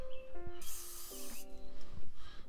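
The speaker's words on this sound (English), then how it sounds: "why is it spraying like that? I did not know it sprays like that" Lubricant sprays from an aerosol can onto the threads of a fender roller for an Infiniti G35, giving a loud, close hiss that lasts nearly a second, set among faint clicks and tonal squeaks.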